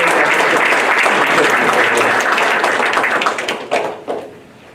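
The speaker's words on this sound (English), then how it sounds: "Please join me in giving a big round of applause" Conference audience breaks into sustained applause, dense steady clapping filling the room before thinning out and fading near the end.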